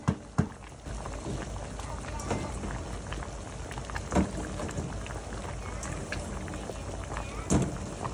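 A pot of sinigang soup with spareribs boils over, giving a steady bubbling hiss and sputter with a few sharp knocks and bumps rising above it.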